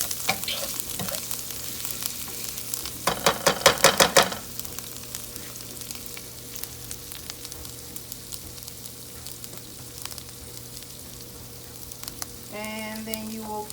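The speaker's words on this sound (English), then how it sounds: "you're going to stir it around. Get it all mixed up in there." Shrimp and spinach stirred and frying in a pan, a steady low sizzle running throughout, with a louder burst of scraping and crackling around the three-to-four-second mark and no voices.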